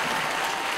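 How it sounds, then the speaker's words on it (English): Dense, steady applause from a large crowd at a sports awards ceremony, sustained clapping filling the whole moment without pause. "Give him a round of applause."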